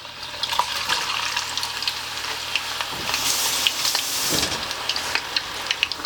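Potato pieces frying in hot oil, a dense, steady crackling sizzle with scattered pops and bubbling surges, close and fairly loud with no talking.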